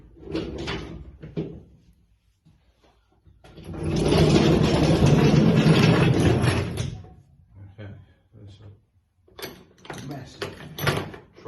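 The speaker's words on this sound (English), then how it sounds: "Massive trolley jack." A massive old trolley jack rolls and clatters across a garage floor during the strip-down of a 1985 BMW 525e E28, a sustained rumbling scrape for a few seconds between quieter knocks and bumps, with a voice talking.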